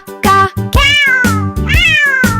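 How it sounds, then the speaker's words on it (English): A cat meows loudly and close up, giving several clear, drawn-out calls in quick succession with no other sound around them. "C is for cat."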